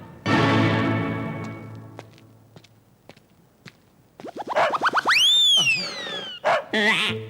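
A pet dog barks in a Telugu comedy film scene, sharp yips and bow-wows scattered across the clip along with springy boing-like cartoon effects near the end.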